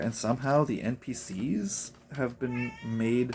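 A female pet cat named Skittles, shut behind a closed door and wanting to go outside, meows a few times close by, her calls mixed in with a person talking steadily over them.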